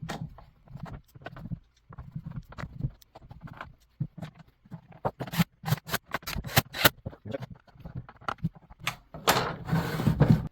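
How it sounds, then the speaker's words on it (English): Bolts are refitted into the shroud of an Echo leaf blower, with close, irregular clicks, taps and short ratcheting bursts of small metal parts and tools, busier toward the end. "Now let's put all these bolts here back in."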